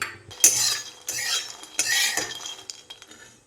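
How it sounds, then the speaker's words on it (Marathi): Fox nuts (makhana) being dry-roasted and stirred in a pan with a utensil, giving several loud scraping, rattling bursts with short pauses between them, close up and with no talking. "आता हे जे मखाने घेतलेले आहेत ते असेच मी ना भाजून घेणार आहेत"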